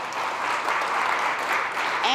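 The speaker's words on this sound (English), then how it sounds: "who deserve our thanks and a big round of applause" An audience at an environmental justice event bursts into sustained applause, a dense, steady clapping that fills the room for the whole stretch.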